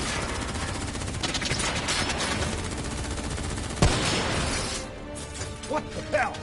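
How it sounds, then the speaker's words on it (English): Gunfire in the video game Call of Duty: Black Ops 3, a dense, continuous barrage of shots and impacts with a sharp crack near the middle, heard amid game voices and chatter. "Who's shooting?"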